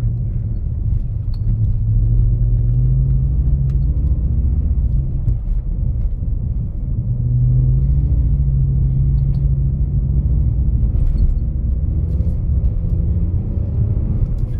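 A BMW E46 325i or 320i drifting at speed on snow, its engine a loud, steady low rumble that rises and falls in pitch as the revs surge, running throughout with no talking.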